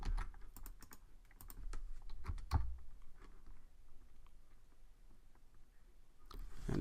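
Rapid bursts of keystrokes on a computer keyboard as an nslookup command is typed, close and fairly crisp, with uneven pauses between clusters of clicks and a final flurry near the end.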